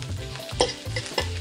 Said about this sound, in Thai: ผัดกระเทียมให้หอมค่ะ